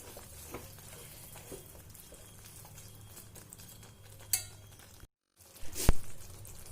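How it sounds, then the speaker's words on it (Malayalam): Bitter gourd pickle being stirred in a pan, with a soft continuous sizzle and scraping through most of the clip, a couple of sharp utensil clinks near the end after a brief silent break. "നന്നായി മിക്സ് ചെയ്തെടുക്കാം."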